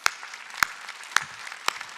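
At a Korean church's Wednesday worship service, four sharp, evenly spaced claps ring out in a steady rhythm, crisp and distinct against a quiet background.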